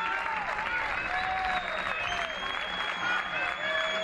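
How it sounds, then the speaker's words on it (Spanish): A stadium crowd applauds a substituted player leaving the pitch during a Spanish División de Honor rugby match between Recoletas Burgos Caja Rural and VRAC Quesos Entrepinares; the clapping is steady and broad throughout, with faint higher tones mixed in. "Aplaudido Iker Aduriz."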